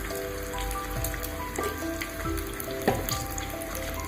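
Eggplant pieces fry with softened onions in a pan, a moderate crackling sizzle with a couple of sharp scrape or clatter hits from stirring.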